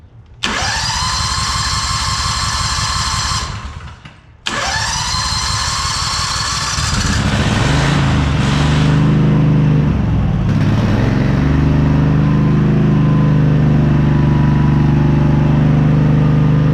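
A Honda Northstar pressure washer engine is pull-started after being drained and choked, catching after a short pause and settling into a loud, steady, droning run close by.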